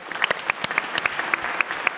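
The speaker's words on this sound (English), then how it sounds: "Let's give him a round of applause." Audience applause at a forum on growth and opportunity in Africa: many people clapping in a room, a dense, lively patter of sharp claps held steady for the whole stretch, with no talk over it.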